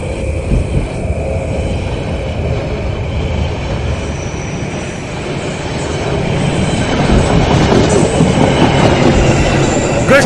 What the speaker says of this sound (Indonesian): Nah ini Nes, saya kedengaran suara kereta dari jauh